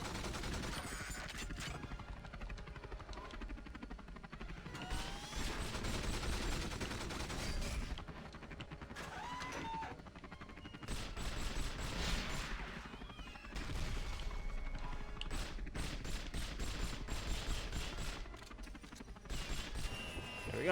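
Pistol gunfire in the James Bond video game 007 From Russia With Love, loud bursts of shots repeating in clusters over game music and ambient noise.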